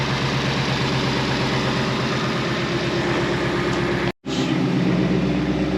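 A 2020 Ford Mustang GT V8, restarted after its spark plugs were reconnected, idles with a steady loud rumble close by. The sound cuts out sharply for a moment near the end, then picks up again.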